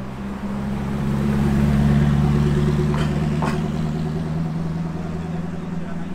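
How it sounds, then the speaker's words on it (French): A Gumpert Apollo supercar moves past at the Top Marques Monaco show, its engine a steady low rumble that swells toward the middle and then eases off, heard fairly close amid background noise. "Gumper Apollo qui passe ici."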